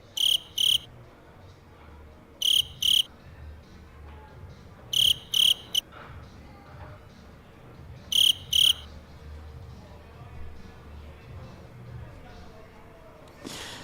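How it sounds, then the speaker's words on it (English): Crickets chirp in a backyard at night, four loud, close bursts of rapid high trills spaced a few seconds apart, over a low steady murmur. "If you're hearing crickets, then it's not on this end."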